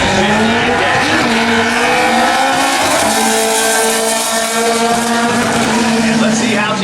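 A fuel-injected drag racing car at N.C. Dragway makes a run, a loud continuous engine roar with rising and falling pitch throughout, heard from close range.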